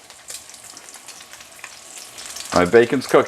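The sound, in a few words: bacon frying in a pan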